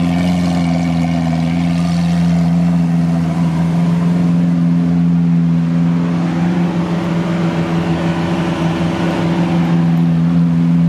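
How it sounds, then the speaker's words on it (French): A Ferrari 812 Superfast fitted with a Capristo exhaust drones in a loud, steady, deep engine note with a strong humming tone, held at high revs throughout with no talking. "celle-là a un échappement Capristo, donc elle fait un peu plus de bruit"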